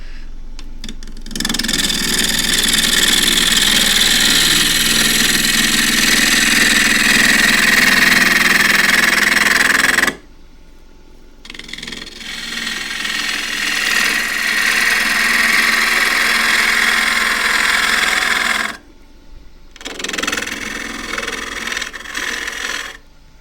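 Wood lathe spinning a wig stand blank, the rough off-centre piece rattling loudly as it is brought round, in three sustained bursts with brief pauses between, no talk.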